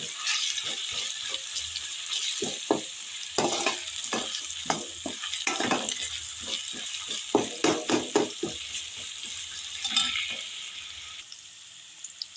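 Ginger paste sizzles in a hot pan for a tomato egg fry, a steady frying hiss broken by repeated sharp stirring scrapes and clicks of a spoon, close and fairly loud throughout.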